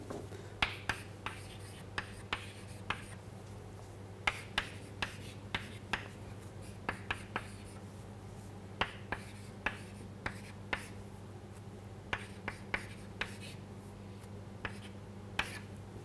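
A pen writes out an expression by hand in faint scratches and taps, with short strokes landing irregularly over a steady low hum.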